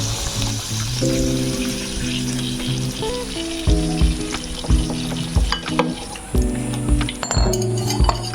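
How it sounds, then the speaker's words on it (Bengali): Ripe banana pakoras fry in hot oil with a steady bubbling sizzle, broken by close metallic clinks and scrapes of a utensil against the pan; no one speaks. "একটু ভালো করে ভেজে নেব চার মিনিট"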